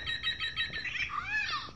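Recorded call from a Wild Republic Audubon Cock of the Rock plush toy: a short run of bright, squeaky chirps ending in a rising and falling squawk-like whistle, close and alone.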